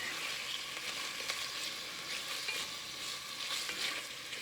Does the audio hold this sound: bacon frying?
yes